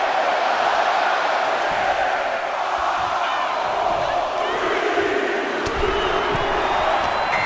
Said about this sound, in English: Listen to this crowd count the next one in.